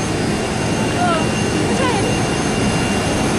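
A Wings Air airplane flies overhead on an Indonesian island, its jet roar loud and steady for the whole stretch, a broad constant rumble with a slight rise partway through.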